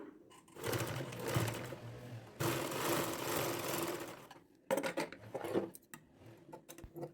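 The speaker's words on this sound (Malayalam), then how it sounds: "ഇതുപോലെ വെച്ചതിന് ശേഷം സ്റ്റിച്ച് ചെയ്ത് കൊടുക്കുക" Domestic sewing machine stitching fabric for a garment, running in two long steady bursts and then a shorter, choppier run, each separated by brief pauses, loud and close with no talking.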